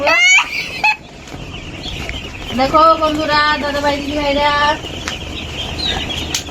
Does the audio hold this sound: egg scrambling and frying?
no